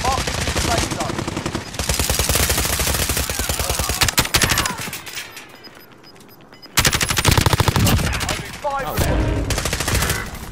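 Gunfire in a shooter video game: loud rapid bursts of automatic fire in long stretches, broken by a quieter pause, with players talking over it.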